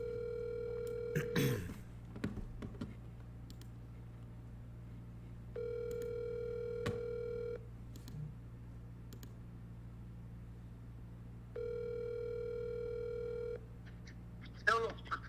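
Outgoing phone call: a short burst of dialing tones, then two long steady ringback tones spaced several seconds apart, with a faint low hum underneath throughout.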